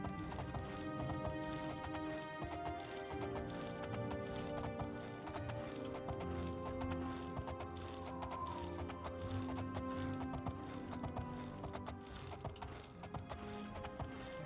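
Horse hooves clip-clop steadily in The Elder Scrolls game, a continuous rhythmic trot sitting under dense game music and ambience for the whole stretch.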